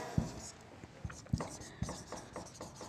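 A pen writing an answer in a notebook produces soft, close scratching strokes with a few light taps, continuous at low level while a voice speaks quietly in the background.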